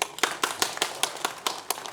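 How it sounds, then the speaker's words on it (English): An audience at a conference session claps in unison, sharp, evenly spaced claps in a quick steady rhythm, fairly close, with no talk over them. "clap 3 times"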